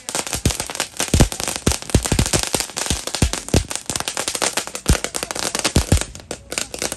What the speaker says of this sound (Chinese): 民众也纷纷放鞭炮、挥舞旗帜支持。